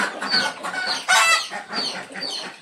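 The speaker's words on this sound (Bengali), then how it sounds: "এই পাশে হাঁসগুলা এক সাইড করে আছে, একটু ডিম পারে, ডিম পাড়া হাঁস" Egg-laying ducks in a farm shed give a close, busy chorus of overlapping quacks and calls in irregular bursts, filling the short stretch.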